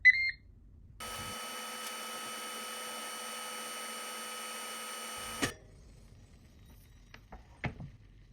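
An air fryer being set to 390°F for 10 minutes gives a quick beep, then a steady fan hum with a tonal whine for about four seconds before it cuts off, followed by faint clicks.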